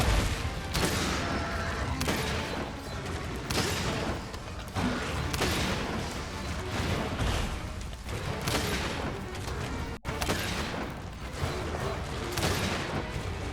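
Bowgun fire aimed at a monster's claws in Monster Hunter Rise: Sunbreak: loud, rapid shots repeat in a steady volley with a dense, crackling game-effect wash and no pauses.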